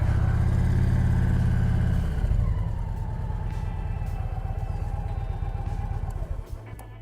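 A motorcycle engine during a slow practice ride, a loud low chugging idle that drops in pitch and settles into a steady mid-rev putter, then fades at the end.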